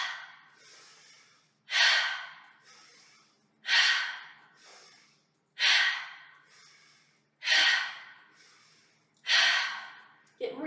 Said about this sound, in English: As you exhale, let it out.